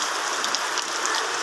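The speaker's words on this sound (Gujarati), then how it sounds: "જો ભાઈ વરસાદ પડે વરસાદ" Unseasonal rain pours down in Paliya village of Nadiad taluka, a steady, even wash of drops pattering on surfaces, close and continuous with no voices.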